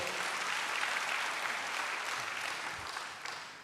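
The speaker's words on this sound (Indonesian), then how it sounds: "Berikan tepuk tangan hebat bagi dia." Sustained applause from a church congregation during a sermon, a dense patter of many hands clapping at a steady, moderate level throughout.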